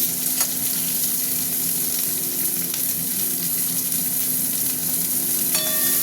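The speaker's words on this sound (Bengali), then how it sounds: "পেঁয়াজটা একটু ভাজা ভাজা হোক," Onions frying with five-spice in a pan, a loud continuous close sizzle throughout, with a faint tonal hum underneath and a brief ringing tap near the end.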